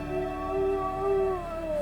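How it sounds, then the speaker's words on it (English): A dog named Carla howls in the Swedish mountains in winter, one long wavering tonal howl rising and falling over about two seconds, heard fairly clearly in a quiet outdoor setting. "we hear Carla howling after us"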